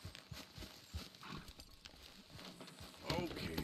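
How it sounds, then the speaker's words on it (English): Horse hooves clip-clop in a quick rhythm alongside Red Dead Redemption 2 game sounds, with a person talking over the top. "Okay, that's my horse."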